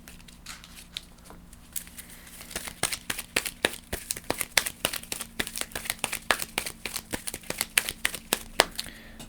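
Wingspan board game cards being handled and removed on a table, a run of close, quick crinkling and tapping sounds that grows busier as it goes.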